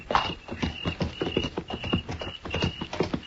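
Horses' hooves clip-clop in a steady walking rhythm as riders move straight ahead, a close, clear radio-drama sound effect with overlapping beats from more than one animal.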